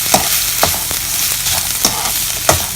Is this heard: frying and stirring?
yes